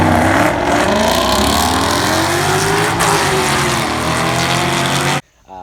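A Ford Mustang S550 accelerating on a race track, a loud sustained engine roar climbing through the revs for about five seconds before cutting off abruptly.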